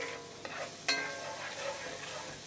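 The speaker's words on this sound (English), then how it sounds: "we just want to cook these and just keep stirring them around until they're nice and soft" Onions stirred in a pan, sizzling softly while a utensil scrapes and clicks against the pan in a few close, irregular strokes, with no voices.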